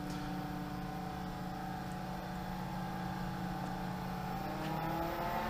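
A variable speed pool pump motor hums steadily with a tonal drone whose pitch rises slightly as it ramps up toward full speed, continuous and moderately quiet with no talk.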